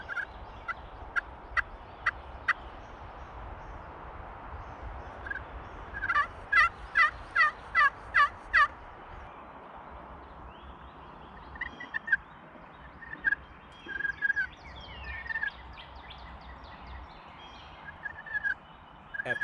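A giant wild turkey gobbler on opening day of a Georgia hunt gobbles in repeated rattling bursts, heard from a distance outdoors, with several separate volleys spread across a quiet background.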